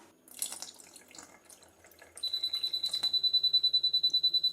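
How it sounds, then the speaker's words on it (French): Water trickles and drips into a Lidl Silvercrest SGW 860 two-place mini countertop dishwasher, followed by a steady repeating electronic beep that pulses on and off until the end. "On rajoute de l'eau"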